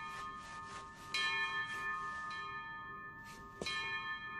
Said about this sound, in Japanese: 鐘が終わるまでに集合してね。